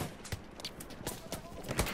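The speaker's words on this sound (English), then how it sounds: "Cause there is horses coming." Horse hooves clip-clop in a video game, a fast uneven run of soft thuds passing under game noise and a voice talking over it.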